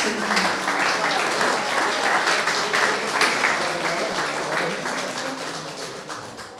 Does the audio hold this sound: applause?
yes